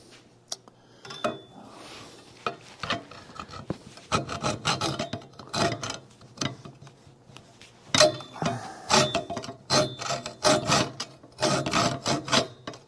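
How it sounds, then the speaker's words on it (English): A hacksaw cuts through metal while a batting cage is being repaired. Rhythmic rasping strokes, close and fairly loud, speed up and keep going with no talk. "that's the easiest way to do it is with a hacksaw"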